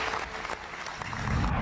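An audience applauds at the G20 leaders' summit in New Delhi, a short burst of dense, steady clapping from many hands.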